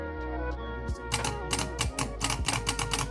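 Rapid dry mechanical clicks in uneven bursts over a low steady hum, close and fairly sharp, like a starter solenoid clicking repeatedly.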